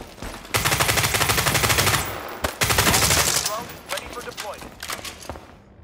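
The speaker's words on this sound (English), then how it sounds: "Someone's shooting from my left." Heavy automatic gunfire from several weapons in the World War 3 video game, with an M4 rifle among them, bursts of rapid rattling shots breaking off and resuming, loud and close over a busy battlefield background.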